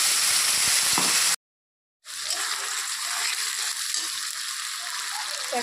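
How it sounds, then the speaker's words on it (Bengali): Spices for a Bengali fish curry sizzle and fry steadily in a pan with potatoes, a bright continuous crackle broken by a brief silent gap, with a voice talking faintly at moments. "একটু ভালো করে ভেজে নেব, লাল লাল করে।"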